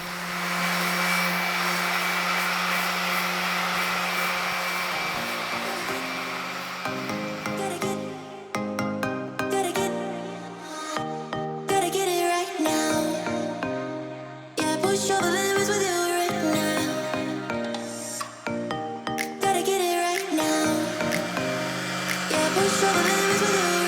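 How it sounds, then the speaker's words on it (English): A power sander takes the bottom paint off a boat hull to taper the gel coat, running loud and steady close by with a shifting, wavering pitch as the tool moves across the surface. "We just sand the bottom paint off right there so we can kind of taper the gel coat down."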